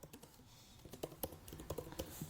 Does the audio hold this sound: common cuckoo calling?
no